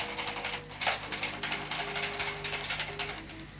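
A Bond knitting machine carriage is pushed across the needles, giving a close, continuous mechanical ratcheting clatter with rapid rhythmic clicks and a faint underlying hum.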